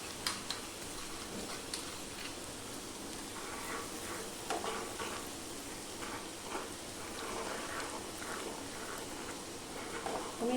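Garlic chutney is stirred in a hot pan with the flame off, producing a soft continuous sizzle with light scraping strokes, fairly quiet and close.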